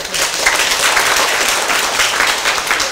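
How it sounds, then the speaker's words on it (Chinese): An audience at a political seminar lecture breaks into dense, steady clapping that fills the whole stretch at an even, fairly loud level, with no voices rising above it. "这个拍手才对呢。"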